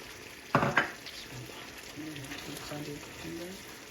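Tomato sauce for chicken korai sizzles in a pan as spices go in, opening with a sharp utensil clatter and then a faint low bubbling sizzle with light stirring, while a soft voice murmurs in the background.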